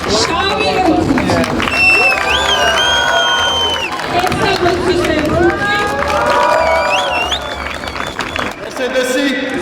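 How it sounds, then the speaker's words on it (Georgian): A large crowd at a BMW car festival cheers and claps loudly and continuously, with shouting voices and whoops rising and falling over the dense noise. "ტაშით უნდა გამოვლინდეს."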